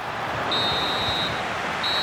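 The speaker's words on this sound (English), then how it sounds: "And there it is, the half-time whistle." Half-time referee whistle in the FC 26 football video game, a shrill, sustained blast heard over steady crowd noise and followed by a second short blast, with no commentary over it.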